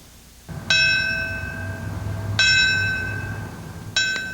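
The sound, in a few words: bells tolling at September 11 memorial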